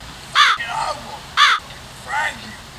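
A pet crow gives two loud, harsh caws close by, each followed by a softer throaty call, the last call trailing off quietly.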